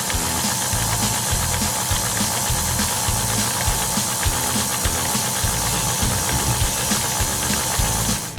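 Electric mixer beating zucchini spice cookie batter, a loud steady whirring drone that runs unbroken and alone for several seconds, with faint rattling in the bowl.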